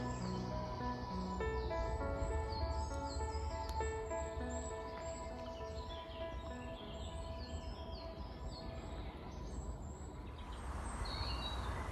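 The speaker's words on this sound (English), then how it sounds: "the sound of the British bird life" Assorted British woodland birds sing and chirp among tall, straight pine trees, scattered calls overlapping at moderate distance over a steady low background hum, with no voices present.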